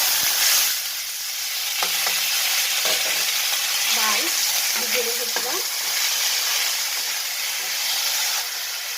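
Dry red chillies and spices fry in hot oil in a pan while cooking an urad dal kochuri recipe, giving a steady close sizzle and hiss with occasional stirring scrapes throughout.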